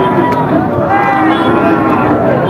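Bull cattle at a busy livestock market, with low mooing and lowing over a dense murmur of crowd noise, steady throughout.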